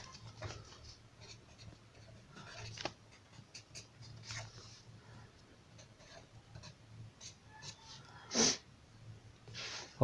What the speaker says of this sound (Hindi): इंट्रो लिख लूँगा आप सबके लिए